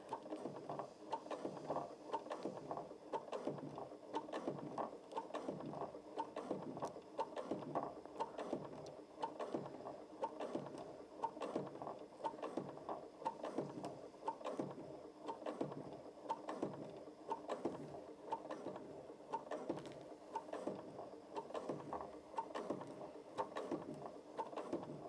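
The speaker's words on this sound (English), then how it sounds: "Now I always like to go slow on leather, when I'm top stitching to keep a straight line" A Janome MC 6700p sewing machine runs steadily and slowly while top stitching leather, its rapid needle strokes forming an even mechanical chatter that continues throughout, close and quiet.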